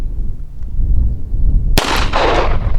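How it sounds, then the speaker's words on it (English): A single shot from an S&W Model 10 .38 Special revolver fired outdoors at a target on a hill: a sharp, loud crack after a quiet stretch of breezy background noise, followed by a decaying echo. "I haven't shot this revolver yet, but we got a propane can up on that hill"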